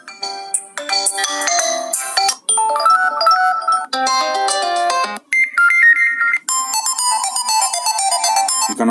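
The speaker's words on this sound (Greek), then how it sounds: "Να ακούσουμε έναν τους ήχους κλήσης τηλεφώνου, να ακούσουμε λίγο το ηχιάκι του." Several Xiaomi Redmi Note 4 ringtones play one after another from the phone's own speaker: short electronic melodies and chiming patterns, each cut off abruptly before the next begins, loud and close, with no voices.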